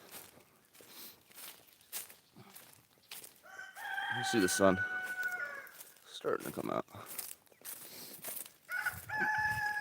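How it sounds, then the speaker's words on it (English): Roosters crow repeatedly at mid distance on a farm in the early morning, several long calls rising over outdoor ambience, with footsteps and a person speaking briefly in between. "Now you hear the roosters."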